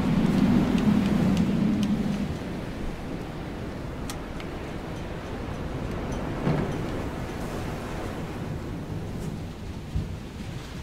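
Steady rain hisses throughout in the video game FAR: Changing Tides, with a low, rumbling undertone and a few faint thuds, giving an even, continuous downpour with no voices.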